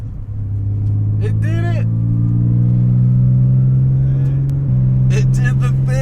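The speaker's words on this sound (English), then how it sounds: "That was the first second gear shift right there." A Porsche 996 Carrera 4 with a rebuilt second gear drones loudly and evenly under acceleration, then its pitch drops sharply at a gear shift near the end, while a person talks briefly over it.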